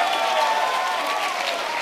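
An audience at a TEDx talk bursts into loud, dense applause after a magic trick, a steady wash of clapping filling the hall for the whole moment.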